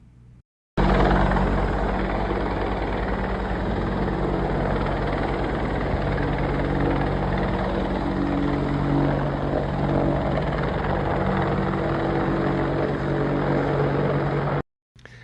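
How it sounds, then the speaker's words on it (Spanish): Army Black Hawk and Apache helicopters fly overhead, a loud, steady rotor roar with heavy low thumping that holds for about fourteen seconds before cutting off abruptly. "Son 2 helicópteros Black Hawk, Apaches"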